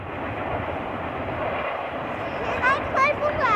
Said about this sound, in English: And there's a train being loud over there.